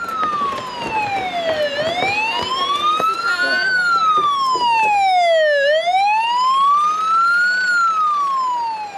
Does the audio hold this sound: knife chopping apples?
no